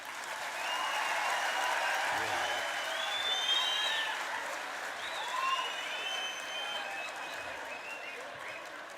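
A large crowd at an outdoor political rally applauds and whistles, a sustained roar of clapping with rising whistles that swells and then slowly fades over several seconds.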